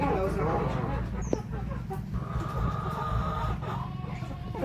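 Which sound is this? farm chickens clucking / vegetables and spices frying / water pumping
farm chickens clucking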